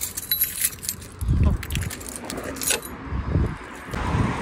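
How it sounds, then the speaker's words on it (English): A bunch of keys jangles in a hand while someone searches for the right ones, a few close metallic rattles in bursts against a faint background. "I need to find some keys. I think these are the right ones."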